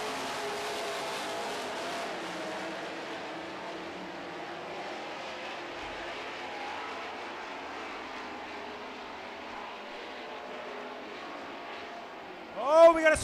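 Super stock race cars running a feature race on a short oval track, a continuous distant engine roar that swells and fades as the pack circles, with a louder close pass at the very end.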